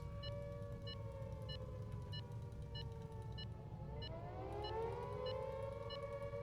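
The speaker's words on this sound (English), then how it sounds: "I hear nuclear missile launch sirens." A long, wailing air-raid style nuclear missile launch siren in the video game Highfleet drones and slowly bends in pitch over a low rumbling background, with faint repeating electronic beeps layered on top.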